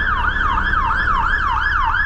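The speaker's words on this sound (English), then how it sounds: "Just the sirens every single day." A loud wailing fire engine siren in London sweeping up and down in steady, rapid cycles, close and continuous with no voices.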